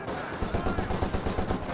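Rapid bursts of MG42 machine gun fire in a World War II multiplayer video game, a steady rattling rhythm of repeated shots close by, running continuously through the short stretch.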